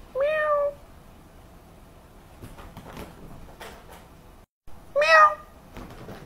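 A cat gives two loud, clear meows close by, one at the start and one near the end, with quieter rustling and soft room noise between them.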